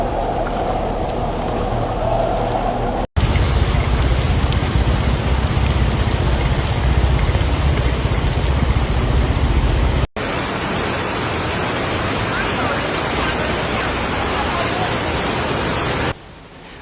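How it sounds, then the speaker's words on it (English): Heavy rain and flash-flood water cascading down from the slopes of Mount Datin into the streets of Tamsui, Taiwan, a dense, loud, continuous roar broken into three abrupt segments that differ in tone. "heavy rainwater from the slopes of Mount Datin cascaded into residential areas in Tamsui, transforming roadways into multi-tiered waterfalls"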